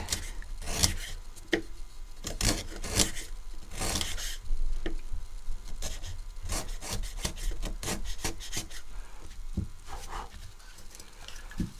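Small 2 mm chisel carefully paring wood strips for a kumiko lattice, a steady run of close scraping and rasping strokes with irregular sharper cuts, continuous and fairly quiet, no talk.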